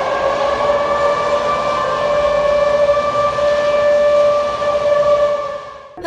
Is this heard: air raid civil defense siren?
yes